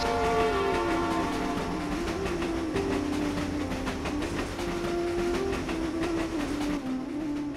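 A train pulls in with a loud, sustained horn blast that holds steady across the whole stretch, over a deep rumbling of rolling wagons; no voices.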